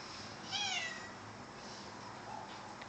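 A single faint cat meow in a quiet room, brief and distant, followed by a softer murmur-like sound a moment later.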